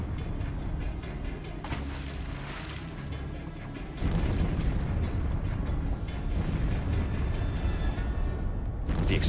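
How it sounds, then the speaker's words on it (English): Depth charge explosions in a WWII submarine battle near Midway, heard as a continuous heavy rumbling roar with a louder deep surge partway through, loud and sustained without speech. "Depth charges don't have to be direct hits. The explosions are designed to rupture or crack the sub's hull."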